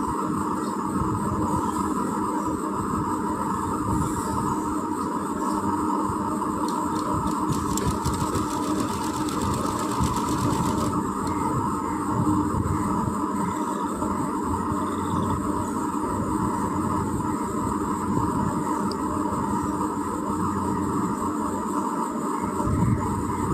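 A sewing machine stitching the sleeve of a long gathered frock runs in a steady, continuous mechanical whir for the whole stretch, close and unbroken with no talking.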